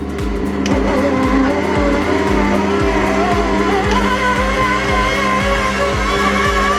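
A food processor grinding beef for bakso meatballs: a loud, steady mechanical whir with rapid, regular low thumping pulses throughout.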